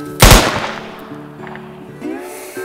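A single sharp, loud gunshot from a revolver in a western comedy duel, followed by a fading echo and quiet background.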